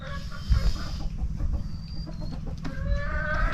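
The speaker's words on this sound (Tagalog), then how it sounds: "Ito yung mga manok oh" Chickens clucking softly at a rural spot near shallow water, scattered clucks over a steady outdoor background with light bumps and handling noise.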